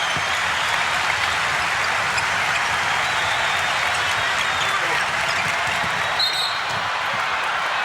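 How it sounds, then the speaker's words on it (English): Basketball arena crowd in Orlando during an NBA game between Detroit and Orlando, a sustained roar of hooting and hollering that fills the space evenly from start to finish. "the crowd starts to hoot and holler in Orlando"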